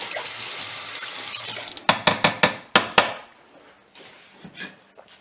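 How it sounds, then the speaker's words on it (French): Blender parts rinsed under a running tap: a steady stream of water gives way to several sharp, close clanks and knocks of the parts, then quieter handling. "je vais rincer ça"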